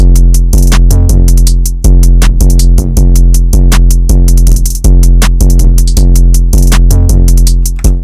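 A trap drum beat programmed in FL Studio plays loud and punchy, with booming 808 kicks, sharp snares and fast rolling hi-hats in a steady syncopated pattern and no vocals.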